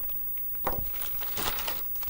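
A small plastic bag from a beauty add-on order crinkles and crunches close up in short handled bursts, with a sharper rustle partway through and another flurry near the end.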